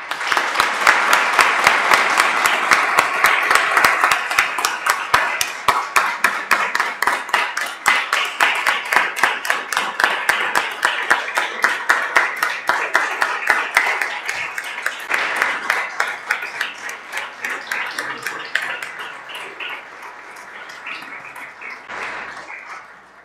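An audience claps in strong, sustained applause that fills the hall, then gradually thins and fades toward the end.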